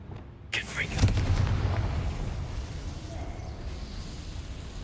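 Confringo blasting spell explosion in Hogwarts Legacy, a sudden loud burst followed by a rumbling boom that slowly tails off, with game sound continuing beneath.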